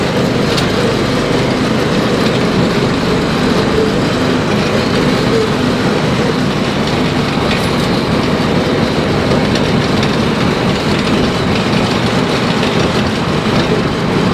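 A Kawasaki KAF450 Mule UTV converted to a Spooner500 track drive rides along, giving a loud, unbroken rumble of engine and clattering tracks that runs the whole time with no voices.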